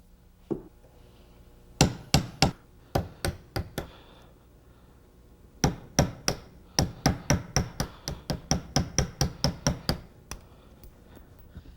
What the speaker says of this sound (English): we're going to take it to the vise and we're going to tap on the rivet and see if we can get it out of there